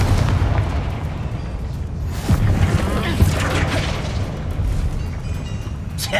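Confringo fire spell blasts in Hogwarts Legacy, several booming explosions bursting in a mine amid combat, loud and close with scattered impacts and rumbling debris.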